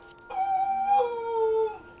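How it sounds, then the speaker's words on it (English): A pet dog howls indoors in a long, wavering, mournful note that rises and dips for about a second and a half, fairly close and alone. "Please excuse my howling doggo."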